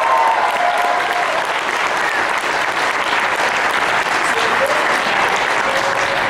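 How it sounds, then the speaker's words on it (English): A large audience at a comic convention voice actors panel claps continuously and loudly throughout, a dense wash of applause with scattered cheers mixed in. "You guys, let's hear another round of applause."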